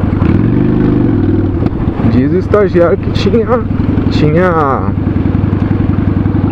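A Honda Shadow motorcycle rides through a construction area, its engine a steady loud low thrum throughout, while someone talks over it.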